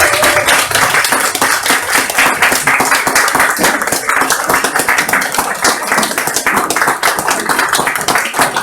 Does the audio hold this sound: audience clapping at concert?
yes